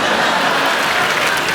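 A studio audience at a Hindi comedy show, The Kapil Sharma Show, gives loud, steady, dense applause that fills the whole short stretch without a break.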